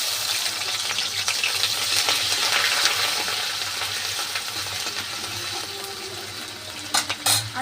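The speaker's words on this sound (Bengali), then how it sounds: "আর এখানে দিয়ে দিচ্ছি আমি পেঁয়াজ বাটা," Onion paste and bay leaf frying in hot oil for a rui fish kalia hiss and crackle loudly up close, with stirring and a few sharp utensil clinks near the end.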